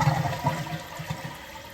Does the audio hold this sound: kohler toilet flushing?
yes